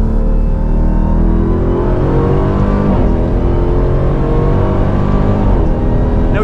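A 2023 Dodge Durango SRT Hellcat roars loudly on the Road America race track, its engine note stepping through downshifts with continuous rising and falling harmonics and no speech.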